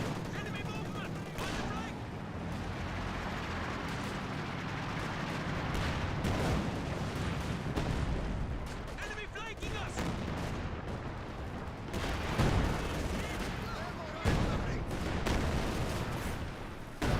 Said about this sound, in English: Here comes the Katusha rocket barrage.